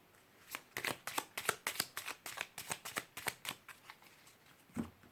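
A Lenormand card deck being shuffled by hand, a close run of about fifteen quick crisp riffling bursts in a steady rhythm, then a pause and one last snap.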